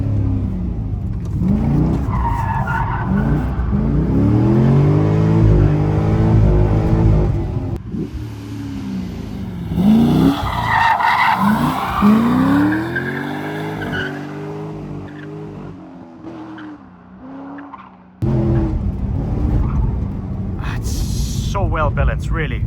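A Corvette C6 Z06 driven hard in second gear, heard from inside: the engine revs rise and fall in loud sweeps with tire squeal, while someone talks over much of it.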